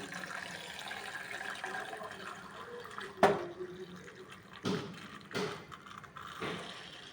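Water drains from a pot of boiled sorghum, pouring and splashing steadily, with a few sharp clanks of metal cookware standing out along the way.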